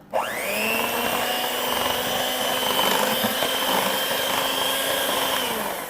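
An electric hand mixer whirs steadily at high speed, beating butter into brownie batter, starting abruptly and holding a loud, even motor whine with faint scraping throughout, close and alone.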